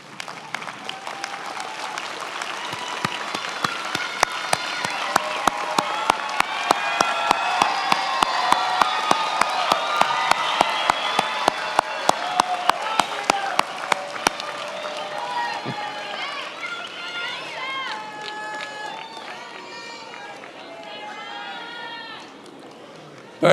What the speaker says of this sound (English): give them a round of applause for the support that they've given you